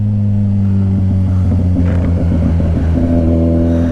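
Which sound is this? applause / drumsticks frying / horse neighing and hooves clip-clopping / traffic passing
traffic passing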